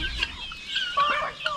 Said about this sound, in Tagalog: At yung mga manok natin dito, unti-unti na lang dumami.